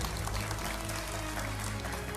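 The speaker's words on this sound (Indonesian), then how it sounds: "Kita berikan tepuk tangan sekali lagi" Audience applause at the Wonder Mom Award 2025 ceremony, a steady wash of many hands clapping throughout, with a low hum running underneath.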